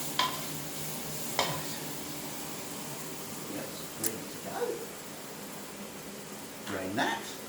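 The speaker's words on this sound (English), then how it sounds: "More stirring." Rice for a vegetable curry is stirred in a pan, soft scraping swishes and occasional spoon knocks over a faint sizzle, with a person talking intermittently.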